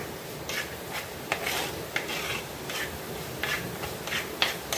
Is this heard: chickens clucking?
no